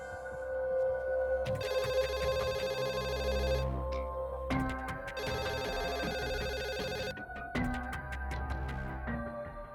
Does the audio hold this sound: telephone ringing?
yes